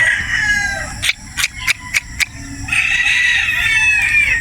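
Gamecock roosters on a game farm in Batangas crow loudly and close by, with a few sharp clucks and wing flaps in between, more crowing continuing in the background.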